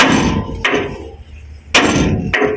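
Hammer blows strike metal while a core is driven out of a car part during a repair, four sharp clanging hits in two close pairs, loud and near, with ringing decay between them.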